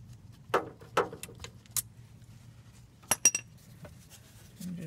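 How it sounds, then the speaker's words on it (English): The last bolt comes out of a GM 4T40E/4T45E automatic transmission pan with scattered sharp metallic clinks and taps, some close and bright, separated by quiet gaps in a garage. "Take the last bolt we left in this corner out."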